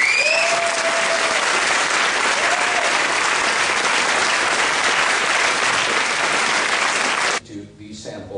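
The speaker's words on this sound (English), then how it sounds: "Can we have a round of applause for all of you?" A conference audience marking the 30th anniversary of the Rendlesham Forest UFO incident in Woodbridge breaks into loud, dense applause that holds steady for about seven seconds, then cuts off abruptly as a voice begins.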